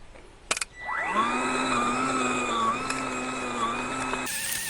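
A small electric motor starts with a rising whine and settles into a steady, fairly quiet drone, running close by for several seconds before cutting off.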